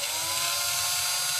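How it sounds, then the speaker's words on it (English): A power drill bores into a racquet's carbon-fiber butt cap, giving a continuous high whine that runs unbroken through the whole short moment, with no talk. "basically just gonna use my drill right where those holes already are"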